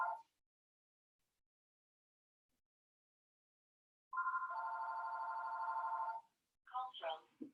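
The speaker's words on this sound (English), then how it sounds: "Sorry, it's the office phone." An office telephone rings in a single clear electronic burst lasting about two seconds in an otherwise quiet room, followed by a brief voice.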